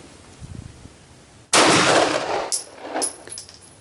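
A rifle fires fresh ammunition over a chronograph: one loud, close report with a lingering tail, followed by a couple of lighter metallic clinks and knocks; softer handling noises come before the shot.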